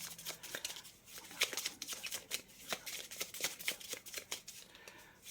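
Tarot cards being shuffled by hand in a steady run of soft, riffling flicks and slaps, fairly close and moderately quiet, with no talking.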